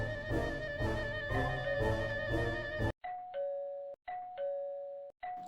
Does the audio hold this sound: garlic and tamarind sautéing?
no